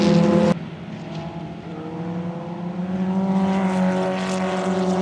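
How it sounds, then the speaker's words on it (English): Monoposto single-seat race cars head out for qualifying at Roebling Road during an SVRA vintage race weekend. A loud, sustained engine drone drops off abruptly, then builds again into a distant, rising roar of passing cars. "The Monoposto cars are next on the track for their qualifying session."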